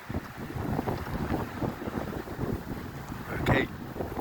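Strong wind from a snow storm in Canada roars steadily and loudly across the microphone, buffeting it in continuous gusts with a brief swell near the end.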